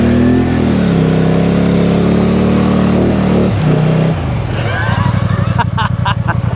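2023 Polaris Sportsman 850 Highlifter ATV engine in deep mud, a loud droning note that dips and rises, then shifts into a rougher pulsing revving sound, with some talk mixed in.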